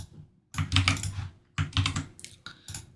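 Close rapid typing on a computer keyboard, two quick bursts of clattering keystrokes separated by a short pause, then a few scattered final taps.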